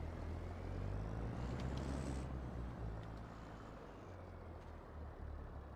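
A tractor engine drones in a farming game, with a low steady rumble and a brief hissing whine partway through, continuous and moderately quiet, with no talk.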